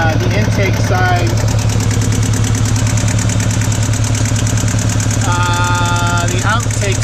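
Sailboat inboard engine idling steadily after a belt replacement, a constant low mechanical drone with rhythmic knocking, loud and close, with talk over it.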